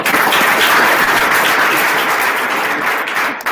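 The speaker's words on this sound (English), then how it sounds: "Let us give an applause." An audience applauds at a closing ceremony for a camp and a medical program launch, the clapping dense, loud and sustained throughout without a pause.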